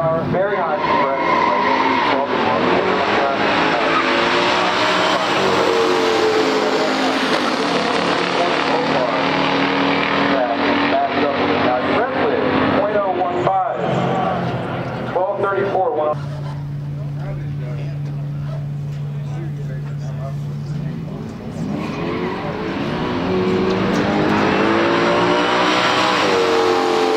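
A 1969 COPO Camaro ZL1 with 430 horsepower and a 1971 Duster 340 in a pure stock drag race, engines roaring loudly with rising revs and shifts, a brief lull, then another surge, mixed with talking.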